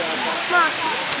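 Steady rushing water pours down a waterfall in Tanay, Rizal, a broad continuous roar heard from nearby with a faint voice briefly over it.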